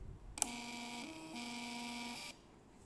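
Small thermal label printer running steadily for about two seconds as it prints a barcode shipping label, a continuous whirring motor tone with a soft click at the start, close and alone.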